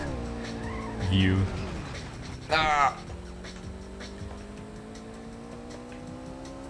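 Race cars roaring and skidding in a racing video game played on an old notebook computer, with engine drone, a brief tire squeal and a sharp rising screech midway, while someone talks over the game.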